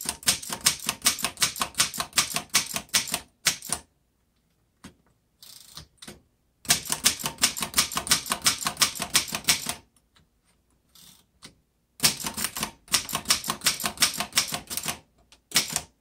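A 1919 Corona Three vintage typewriter typed in caps with shift lock: three bursts of rapid, close, crisp key strikes separated by quiet pauses with a few isolated clacks between them.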